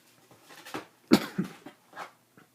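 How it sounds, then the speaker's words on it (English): A man coughs several times in a loose series, one harsh loud cough followed by smaller rough ones, close by with no speech. "My videographer over there is coughing, so he's ruining my video"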